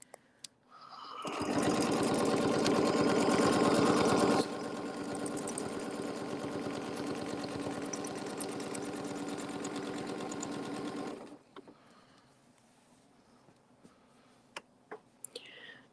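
Longarm quilting machine, an Artisan Curve, running steadily at close range, a loud whirring drone with fast rhythmic stitching clicks that eases to a lower hum after a few seconds and then stops, leaving faint ticks.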